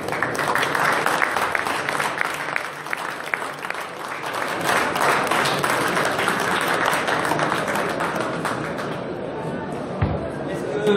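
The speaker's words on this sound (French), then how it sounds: "Parce que là, on applaudit tous." A conference audience at a dental forum applauds steadily and densely, a sustained wash of many hands clapping at close range that runs nearly the whole time before thinning out at the end.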